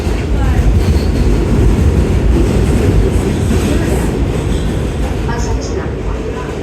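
A New York City subway train rumbles steadily between stations on the line under the East River toward Brooklyn, a loud, continuous close roar of wheels and car noise with faint high squeals near the end.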